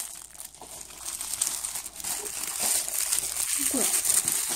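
Paper crinkles and tears as a birthday gift package is unwrapped up close, with rustling bursts and a sharper rip near the end.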